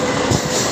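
A short passenger train on the new Katwa–Ahmadpur service rumbles past close by, a loud, steady roar of rolling wagons with no break.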